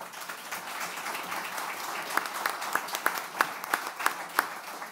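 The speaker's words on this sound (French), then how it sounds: "C'est rare qu'on applaudisse des journalistes" Audience applause for journalists at a municipal election debate in Bécancour, a steady moderate clapping crowd that thins toward the end into a few distinct, sharper individual claps.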